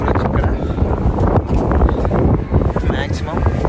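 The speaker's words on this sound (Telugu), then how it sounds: "చాలా గాలి వస్తుంది ఇక్కడ." Strong wind buffets the microphone on Calton Hill in Edinburgh, producing a loud, continuous blustery roar with gusty surges.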